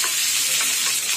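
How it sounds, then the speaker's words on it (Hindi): Onion sizzling as it fries in hot oil in a pan for stuffed bhindi, a steady loud crackle with no talk throughout. "ये देखिए, हमारा ऑयल गरम हो चुका है। अब इसमें प्याज डाल देंगे"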